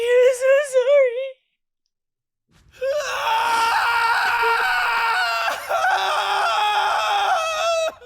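Anguished scream from an Attack on Titan episode, a short wavering cry that cuts off, then after a silent gap a long, loud sustained shriek with layered tones and music, voices mixed in.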